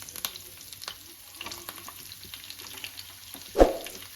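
Chopped onion pieces frying in hot oil for aloo tomato curry, a soft steady sizzle with light stirring scrapes and one louder splash-like burst near the end.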